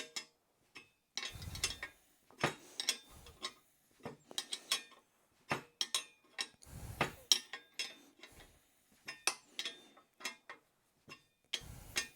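Metallic clicks and ratcheting clatter of a spanner tightening a nut on a BSA wedge-tank motorcycle, in uneven bursts of sharp close taps and scrapes separated by brief pauses.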